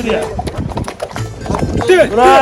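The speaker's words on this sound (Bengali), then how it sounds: "ঘোড়ায় চড়িয়া উপরে উঠছেন" Horse hooves clip-clop steadily on the ride up to Pahalgam, Kashmir, beneath people talking, with a louder, livelier voice near the end.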